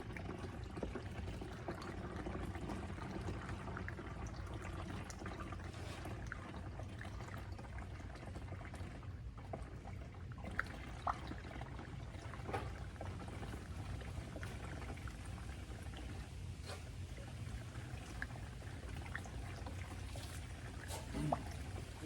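New engine oil pours steadily into a car engine in a continuous low gurgling trickle, faint and even, with no voices.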